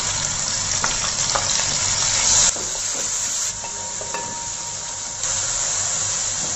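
Three medium sliced onions frying in hot oil with whole garam masala, a steady loud sizzle and hiss throughout with occasional stirring scrapes, no talking.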